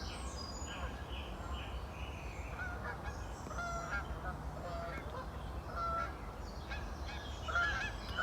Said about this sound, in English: Canadian geese here.